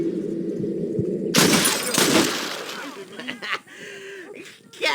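Schofield revolver shots in Red Dead Redemption: a sharp crack bursts out and is followed by shattering noise as the bullets hit bottles, with voices talking before and after.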